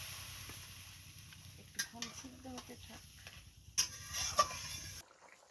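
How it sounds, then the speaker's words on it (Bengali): Fish roe fritters fry in a pan while being stirred, with soft sizzling under scattered scrapes and clinks of a utensil against the pan, quiet and close, before the sound cuts off abruptly. "এবার ওধার নাড়িয়ে নিই মাছের বড়াগুলো দিয়ে দিলাম"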